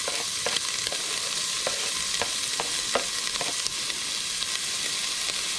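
Onion and garlic fry in a pan for spicy drunken mussels, giving a steady broadband sizzle with scattered sharp crackles and a few stirring scrapes, close and continuous with no talk.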